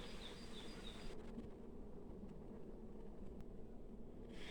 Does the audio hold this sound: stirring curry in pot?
no